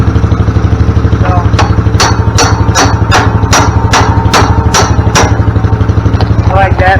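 A hammer strikes a part on a model 110 snowblower about nine times in a steady rhythm to knock it loose. The sharp metallic blows ring out loud over the engine's constant low idle.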